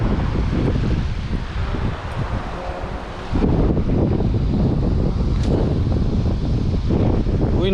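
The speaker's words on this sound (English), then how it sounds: "Wind is picking up now though." Strong wind gusts across an open reef flat, roaring and buffeting the microphone in a steady loud rush that briefly eases before picking up harder.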